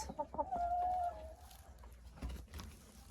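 Hens cluck inside an unheated winter chicken coop, close and clear, with a drawn-out tonal call followed by short, irregular clucks from several birds and no talk.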